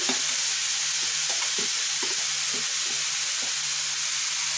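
Chopped beans and mixed vegetables stir-fry in a pan for momo filling, a constant bright sizzle with a low steady hum and repeated soft stirring knocks at a relaxed rhythm, no voices.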